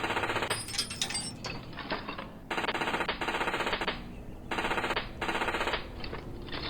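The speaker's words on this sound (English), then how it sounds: "Right, rivet these repairs on." Repair rivets are driven into a Spitfire in the video game Plane Mechanic Simulator, loud rapid rattling bursts of a rivet gun firing in about four separate runs with brief gaps between them.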